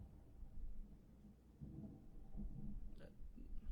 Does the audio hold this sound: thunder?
yes